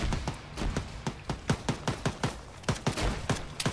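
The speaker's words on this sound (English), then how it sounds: "they're bombarding this with GMG." Grenade machine gun fire in Arma 3, a steady string of sharp, evenly spaced bursts pounding away at a distance, fairly faint, with no voices over it.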